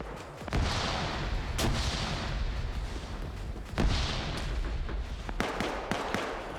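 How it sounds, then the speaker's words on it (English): Distant explosions and cooking-off ammunition from a burning sleigh during a video game battle, rumbling booms and scattered pops over a constant roar of combat. "you can still hear the sleigh cooking off in the distance"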